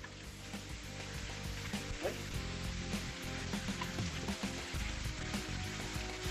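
Spinach frying in a pan while being stirred, a soft continuous sizzle with scattered clinks and scrapes of the utensil, fairly quiet and close.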